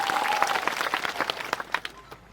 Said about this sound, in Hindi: एक बार जोरदार तालियां आप सबके लिए